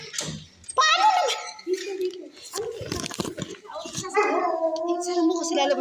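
A pet dog named Daisy howls and whimpers in rising, drawn-out bursts at close range, with people talking excitedly over and between the cries.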